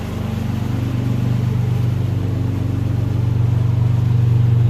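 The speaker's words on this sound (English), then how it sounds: "The exhaust sounds" A 2006 Dodge Magnum SXT engine idles steadily after an EGR valve replacement, with a low, throbbing exhaust rumble that grows slightly louder toward the end, with no voices.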